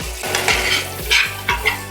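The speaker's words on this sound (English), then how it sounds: "It's not gonna take long to cook this garlic, and you don't wanna burn garlic." Garlic fries in a pan with a steady sizzle, broken by several stirring scrapes and clinks of a utensil against the pan, close and fairly loud.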